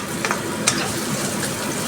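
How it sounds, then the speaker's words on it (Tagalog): Chopped garlic and onion sauté in oil in a pan, giving a soft continuous sizzle with a few brief scraping stirs, heard close and quiet with nobody talking. "Igisa natin ito ng maigi hanggang magiging translucent ang ating garlic at saka ang ating sibuyas."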